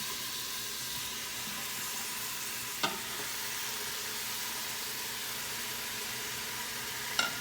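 Chuck roast and a chunk of Polish kielbasa browning in a Pampered Chef Quick Cooker pot give a steady, even sizzle throughout, broken by two brief sharp clicks of a utensil against the pot, with no talk.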